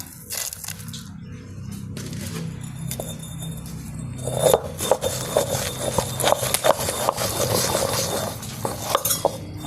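Greens chutney being ground by hand in a stone grinder: irregular knocks and scraping strokes of stone on stone, close and fairly loud, growing busier in the second half with a faint voice underneath.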